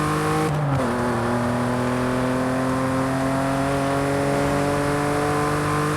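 Volkswagen VR6 engine revving in Forza Horizon 5, a loud steady drone whose pitch dips early on and then climbs slowly as the revs build, heard alone without talk.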